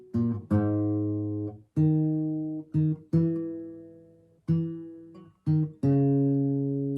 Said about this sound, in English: I'm just playing the bass notes right there because I want you to hear how I'm plucking that